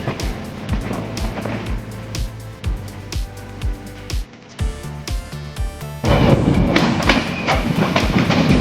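A passenger train on rails runs with a steady, rhythmic clickety-clack of wheels over joints, loud and close, then swells into a denser, louder rumble of rolling wagons near the end, with no voices.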